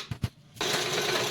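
Sewing machine in a village home starting up after two soft knocks, then running in a steady, close whirring hum.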